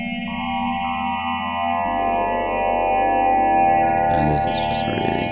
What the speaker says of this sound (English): This has a really heavy reverb that you can put onto it.